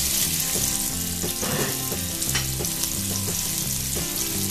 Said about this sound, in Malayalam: സവോള മീഡിയം ഫ്ലെയിമിലാക്കി ലേശം കളറ് മാറി വരുന്നവരെ ഒന്ന് വഴറ്റിയെടുക്കണം